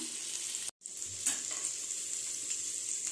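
Steady, close sizzling of garlic sautéing in hot oil, with a brief clatter of stirring partway through.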